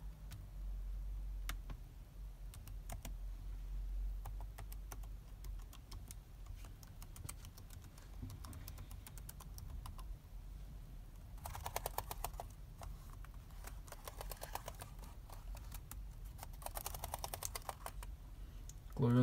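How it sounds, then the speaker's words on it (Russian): Steady laptop keyboard typing up close, a run of quick clicking keystrokes with denser bursts near the end, no talking. "Клавиатура также приятно, мягко нажимается, реагирует моментально."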